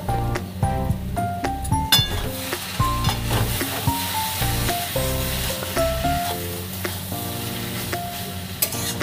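Shredded cabbage with ground garam masala stirred in a hot pan: a constant close sizzle broken by frequent spatula scrapes and light metallic clinks against the pan.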